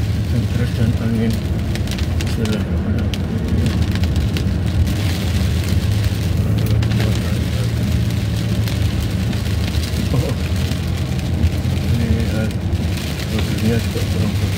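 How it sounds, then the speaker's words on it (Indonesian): Heavy rain and wind in a forest at night, heard from inside a car climbing a steep, winding road: a steady, dense roar of rain drumming on the vehicle with a low rumble beneath, loud and constant throughout. "Hujannya terus teman-teman ini, hujan terus dan angin."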